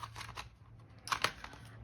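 Scissors snip through Very Vanilla card stock during card making, a few quiet crisp cuts with two sharper snips near the end, close and alone.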